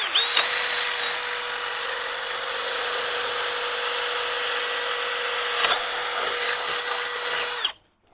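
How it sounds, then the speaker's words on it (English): A power drill bores a hole through an aluminum miter saw fence, its high steady whine running continuously for several seconds close by before winding down abruptly. "and then drill this hole."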